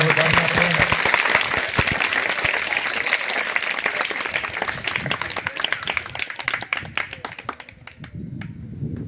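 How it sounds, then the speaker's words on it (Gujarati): Applause from a group of women at a farewell gathering, dense clapping over the first several seconds that thins into scattered claps and fades, with some talk mixed in toward the end. "તાળીઓના ગરગડા"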